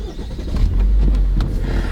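A car engine turns over and catches, settling into a steady low rumble close by.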